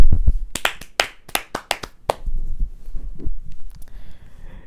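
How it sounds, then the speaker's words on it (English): One person on a football podcast clapping their hands close by: about eight sharp, uneven claps in quick succession, then only quiet room noise. "I'm actually just going to clap for Ross Barkley."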